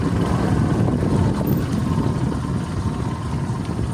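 A steady scooter engine drone runs throughout, loud and close, with a rough mid-range rumble of the small motor carrying a rider, no voices.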